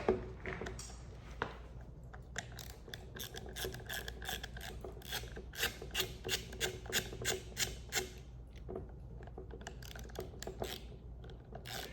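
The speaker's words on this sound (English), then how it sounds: "we're just gonna take these little screws out" Small size 10 Torx screws are backed out of plastic, giving faint, quiet rapid clicking and ratcheting ticks in irregular bursts close to the microphone.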